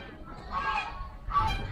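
Two loud goose honks, close by, at a petting farm, separated by a short pause, over faint low background noise.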